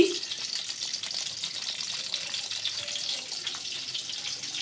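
Mustard seeds and dried red chillies frying in hot oil give a steady, close hiss and crackle that holds at an even level throughout, with no voices.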